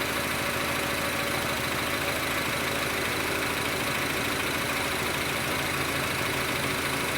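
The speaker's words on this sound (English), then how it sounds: "Car's been idling just for a couple minutes." A 2006-2011 Honda Civic engine idles in a steady, unbroken drone with a low rumble, constant in loudness throughout and no voices, with a P0128 coolant temperature fault.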